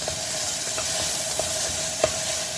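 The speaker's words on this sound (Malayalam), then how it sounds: "ഇതിലോട്ട് നമുക്ക് 1 ടീസ്പൂൺ ജിഞ്ചർ ഗാർലിക് പേസ്റ്റ് ഇട്ട് കൊടുക്കാം. ഇനി നന്നായിട്ട് വഴറ്റി കൊടുക്കാം." Onions and ginger-garlic paste sauté in a pan for a home-made kudutha roast, giving a continuous hiss of frying. Occasional light scrapes and clinks from stirring come through close and fairly loud, with no voices.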